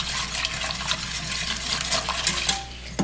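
A whisk stirring liquid soup ingredients in a pot, a continuous close swishing and light clinking of metal against the pot, with no talking.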